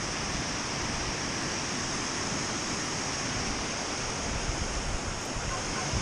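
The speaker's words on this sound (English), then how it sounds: "A lot of water flow." Water flows strongly past a bench in a normally frozen creek or stream, making a constant broadband rush that holds steady, loud and close, with no other sounds standing out.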